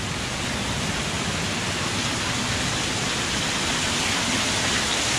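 Water pours steadily over the big water wheel at a 153-year-old mill site, a loud, constant broadband rush with no break or change.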